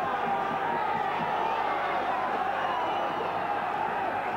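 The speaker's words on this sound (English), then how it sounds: "The crowd urging" A rugby crowd at a Welsh valley ground in 1982 roars steadily, urging Maesteg on against the New Zealand Maori, a dense, distant wall of cheering with no break.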